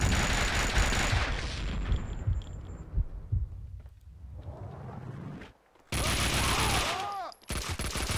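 Gunfire in Max Payne 2, with dense bursts of rapid shots and booming impacts, loud and close, pausing briefly midway before another heavy volley of shooting.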